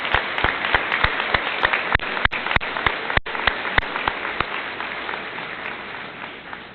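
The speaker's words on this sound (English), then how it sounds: "please join me in one last round of applause for the parents" A graduation crowd applauds the parents with a steady, dense rain of clapping and a few sharp, distinct claps standing out. The applause slowly thins toward the end.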